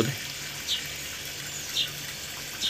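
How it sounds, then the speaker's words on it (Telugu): Water runs steadily from a motor pump outlet with a continuous splashing hiss, a few brief higher squeaks cutting through now and then. "ఇప్పుడు ఎక్కువ వస్తున్నాయి నీళ్ళు."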